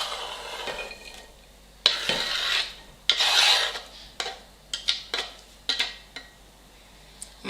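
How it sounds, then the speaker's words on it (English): A knife dices a green bell pepper on a cutting board, with irregular scraping and chopping strokes that start and stop in separate bursts, close and fairly loud. "So we have our green pepper here. I'm going to just dice this up as well"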